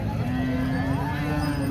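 A cow at Sangola cattle market gives a low, drawn-out moo close by, steady and loud for its whole length, with market voices underneath.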